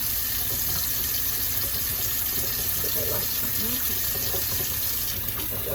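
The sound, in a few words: tap water rinsing tie-dyed fabric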